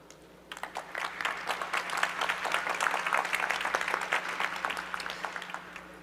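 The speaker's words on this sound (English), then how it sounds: "So please give him with a big round of applause." A round of audience applause at a session of the World Knowledge Forum, building quickly from a quiet hall into steady, fairly distant clapping that holds to the end over a low background hum.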